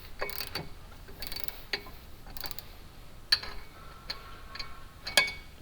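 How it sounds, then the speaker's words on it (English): Faint, sparse metallic clicks and ticks come from a breaker bar tightening bolts while fitting a DBA 4000 Series rotor and STILLEN brake pads. The clicks are scattered and irregular against a quiet background. "we're just going to tighten them down until they stop"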